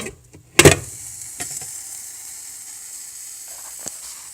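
A gluten-free potato egg wrap cooks in a covered pan, a lid clatters on at the start and then a steady, gentle sizzle goes on with a faint tick near the end.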